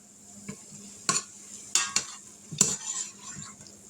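Hamburger meat frying and being stirred in an Instant Pot, with a steady faint sizzle broken by several sharp scraping stirs of the utensil against the pot, close by.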